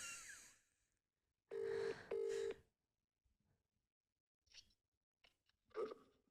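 A telephone being dialed to call someone: a few loud, clear keypad tones, two long ones close together and a shorter one later, between quiet handling clicks. There is no talking.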